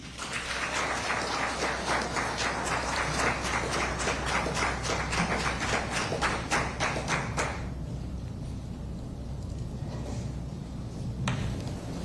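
Steady applause from the audience at a Royal Bahamas Defence Force awards and medal ceremony, a dense crowd of clapping hands filling the room for several seconds, then thinning into scattered, quieter claps toward the end.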